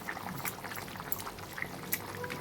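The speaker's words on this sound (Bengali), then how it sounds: "এই সময় আমি গোবিন্দভোগ চাল, ভাজা চালটা আমি দিয়ে দেবো।" Fried Gobindobhog rice pours into a pot of boiling potato broth, a faint, close patter of grains over soft, steady bubbling with no voices.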